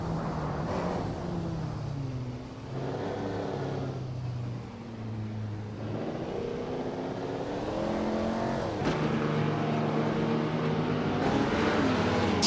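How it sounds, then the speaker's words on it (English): Racing cars on a race track roar and rev as they overtake, engines rising and falling in pitch continuously over a constant loud bed of motor noise. "Calican Bunny is climbing fast, now in 9th place after overtaking 3 cars"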